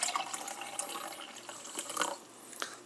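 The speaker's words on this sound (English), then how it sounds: "you put water in here" Water splashes and trickles into a cup with iced tea mix for a few seconds, a bright, close gurgling with small drips and bubbling.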